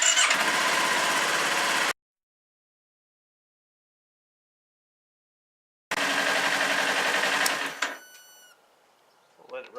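Kawasaki Ninja 400 motorcycle engine starting and warming up, with a loud burst of engine noise, a silent gap, then another loud burst that settles into a quieter idle with some clicking.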